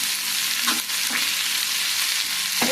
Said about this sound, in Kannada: ಎಲ್ಲ ಒಟ್ಟಿಗೆ ಹಾಕಿ ಫ್ರೈ ಮಾಡಿದ್ರೆ ಆಯಿತು